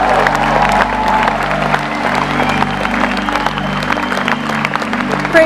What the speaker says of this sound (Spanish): give Jesus the best hand of praise you can.